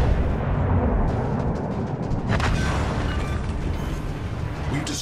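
Heavy artillery from a naval warship video game pounds an enemy cruiser, a dense continuous rumble of booming salvos and blasts filling the whole stretch with steady loudness.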